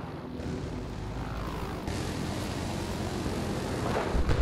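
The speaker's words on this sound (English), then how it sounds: "Helicopter east of you." Helicopter in the video game Battlefield 4, a steady distant whirring engine drone with rotor roar, fairly faint and continuous, swelling slightly louder toward the end.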